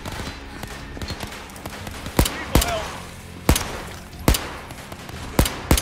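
Pistol shots in Overkill's The Walking Dead ring out as sharp, loud cracks spaced irregularly over several seconds, with scattered quieter clicks and impacts in between.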